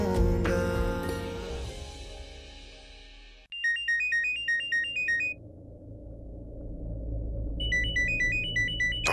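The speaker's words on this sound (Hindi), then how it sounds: "डॉक्टर का फोन" A melodic electronic phone ringtone repeats its chiming pattern twice, following a fading musical swell, with a low hum beneath.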